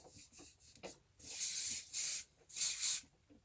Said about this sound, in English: Give it a little touch of hairspray